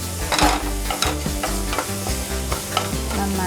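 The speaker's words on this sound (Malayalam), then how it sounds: "നന്നായിട്ട് ബ്രൗൺ ഷെയ്ഡ് ആവുന്ന വരെ ഇളക്കി കൊടുക്കാം." Onions fry and sizzle in a pan for Kerala-style green peas masala while a spoon stirs them, with repeated scraping and knocking strokes over a steady, close sizzle; no voices.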